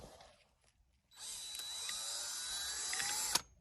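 A power drill fitted with a whisk attachment spins up to mix paint, a high steady whirring whine that runs for a couple of seconds after a quiet start, ending with a brief knock before cutting off.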